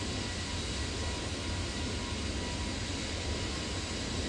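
Steady, loud Airbus airliner engine roar inside X-Plane 12, a broad continuous rumble and hiss with a faint whine on top, constant and unbroken throughout with no talk.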